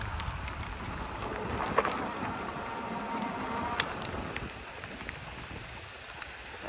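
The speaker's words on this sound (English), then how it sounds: "surely you can hear the rain by now" Steady rain comes down during an ebike ride on a Vitilan i7 Pro, a soft, continuous hiss with wind rush and occasional small ticks and taps, fairly faint and with no talking.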